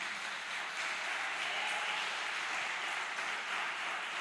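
A church congregation claps together during a worship service, a broad, continuous wash of applause holding at a steady level for the whole stretch with no voices standing out.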